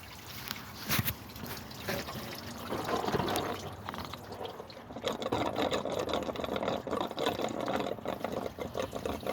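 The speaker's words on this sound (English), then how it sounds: "You can see I got coolant coming out." Coolant draining out of the reservoir of a 2007 BMW 328i, a steady liquid trickle and splash close by, with clattering handling noises during the work.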